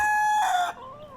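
A rooster crowing once, loud and close, its call rising and then trailing off into a quieter tail near the end.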